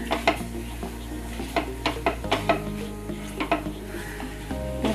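Fried poppy seeds are stirred into a date mixture in a pan, giving a soft, steady sizzle broken by a series of sharp scraping knocks from the spoon.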